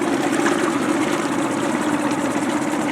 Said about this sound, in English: Simplicity is a 20 horsepower engine.